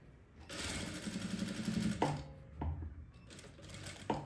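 A straight-stitch domestic sewing machine runs a reverse stitch while sewing pantalona trousers with elastic, a steady fast needle chatter with short stops and restarts and a few sharp clicks from the machine.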